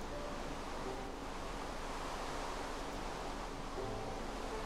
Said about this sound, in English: the rain is really loud and really annoying me